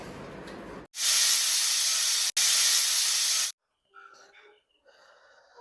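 A pressure cooker holding squid with a little water lets out two long, loud bursts of hissing steam separated by a brief break, then goes quiet apart from some faint clatter and rustling.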